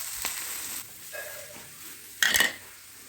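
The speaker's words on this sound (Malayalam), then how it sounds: "വെണ്ടയ്ക്ക ഇതുപോലെ അരിഞ്ഞ് വെളിച്ചെണ്ണയിലിട്ട് വഴറ്റിയെടുക്കുക" Sliced okra sautéing in coconut oil in a pan: a soft sizzle under a few stirring scrapes and light utensil clinks, with one louder burst of scraping near the end.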